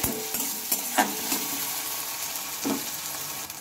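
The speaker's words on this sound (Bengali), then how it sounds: "টমেটোটা দিয়ে একটু ভালোভাবে নেড়ে চেড়ে নিচ্ছি" Chopped tomato being stirred into fried onion in a pan for a Bengali lau dish, a soft sizzle under scraping spatula strokes and a few clinks, close and moderately loud with no talking.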